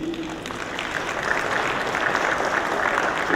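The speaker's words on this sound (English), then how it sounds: "Let's give her a round of applause," Applause from an audience at an agri-business investment forum in Jamaica, a steady wash of clapping held at an even level for a few seconds, with a faint voice near the start.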